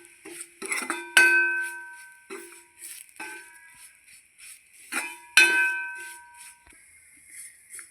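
A pan being stirred with a utensil while turmeric and pepper powder are added for a simple Kerala-style egg roast, giving repeated metallic clinks and scrapes at close range with short pauses between strokes.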